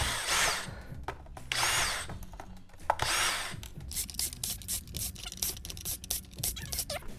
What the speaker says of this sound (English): I'm just gonna get a power tool.